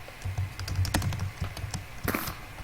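Fast clacking keystrokes on a computer keyboard while typing into a Minecraft server chat, an irregular burst of close, fairly quiet taps that ends with a couple of sharper hits, no voices.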